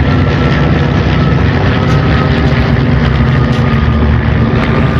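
Steady, loud, continuous engine roar from inside a passenger airplane in flight, a dense unbroken drone with no speech.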